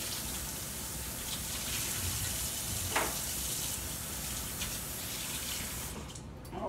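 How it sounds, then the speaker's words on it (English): Tap water runs steadily from a kitchen faucet as hands are washed, a continuous close gush with small splashes and no talking, easing off near the end. "I'm gonna wash my hands real quick."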